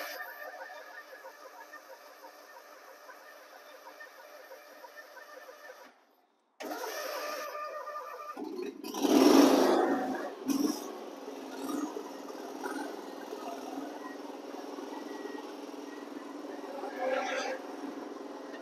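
A Limited Edition Gravely ZT X Stealth zero-turn mower engine cranks and catches after a short silence, then settles into a steady close mid-pitched idle with a rev swell, while someone talks over it.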